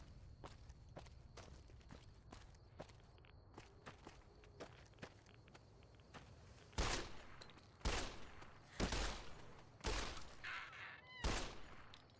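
Pistol shots ring out in Fallout: New Vegas, about six loud, sharp cracks spaced roughly a second apart after a stretch of quiet footsteps and faint background noise.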